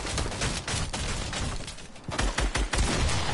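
Sustained video-game gunfire, loud dense volleys of shots rattling almost continuously, with a brief lull before heavier, punchier blasts resume.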